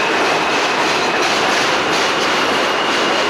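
A train passes close on an elevated rail line in Williamsburg, Brooklyn, its loud, steady roar and clatter of wheels filling the whole stretch without a break.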